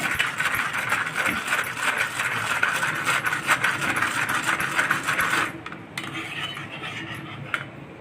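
A spoon whisks cooked dal in a pot, with fast, steady metallic clinking and scraping that runs continuously, then stops abruptly and leaves quieter background noise.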